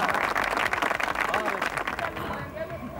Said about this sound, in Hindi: ताली बजाने का।